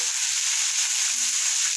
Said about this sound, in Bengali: এবার এটা এই টমেটোটাকে আমি ভাজতে দেবো কয়েক মিনিট।